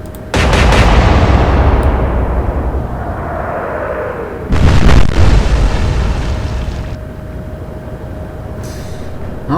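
Naval guns fire in the Atlantic Fleet warship game, with two heavy booming blasts a few seconds apart, each trailing off into a long rumbling decay.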